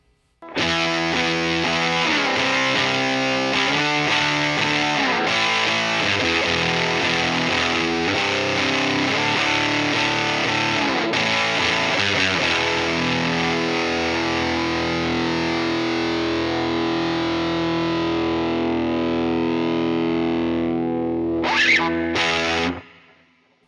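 Electric guitar played through a fuzz pedal into a Fender Tone Master Pro, with an EQ pedal boosting the bass, gives a thick distorted sustained tone of held chords and notes, loud and steady, ending with a brief final strum.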